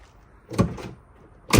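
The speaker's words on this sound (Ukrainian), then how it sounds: "Коли відкриваємо передні дверки," A car door on an Opel Zafira B with faulty locks unlatches with a short clunk, followed by a second thud, then another sharp knock at the end; fairly close, no talking.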